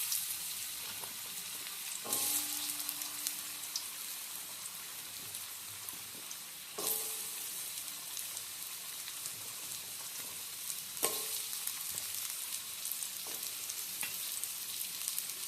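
Cut potatoes frying in spiced oil for a vegetarian snake gourd and potato curry hiss in a steady, close sizzle, broken by a few sharp clinks and scrapes of stirring.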